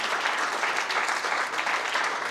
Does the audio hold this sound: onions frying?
no